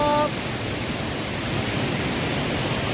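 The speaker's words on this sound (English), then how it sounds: "Yeah, this is the last waterfall." A waterfall in Langvoku, Karbi Anglong, a steady broadband roar of rushing water, close and continuous, with a brief tone at the very start.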